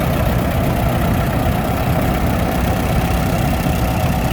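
A big Case DC tractor fitted with duals idles at an old gas tractor show, a loud, steady low rumble close by with no talk over it.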